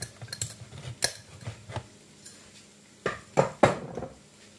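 Utensil scraping and clinking in a pan as Bombay mix is stirred into a tofu dish, with scattered soft knocks and a few louder scrapes toward the end, close and alone.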